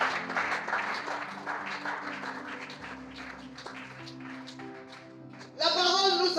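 A church congregation claps and cheers throughout, with a dense, steady roar that swells into a loud burst near the end. Voices mix in with the applause.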